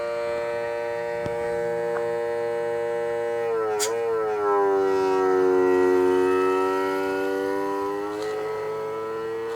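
An automotive smoke leak tester runs on a 300ZX Turbo, giving a steady, loud tonal hum that sags in pitch as it loads up midway, with a brief click near the start and no talk.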